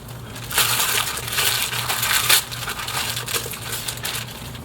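Package being opened by hand, crinkling and tearing of wrapping with rustling bursts, close and fairly loud, no talk.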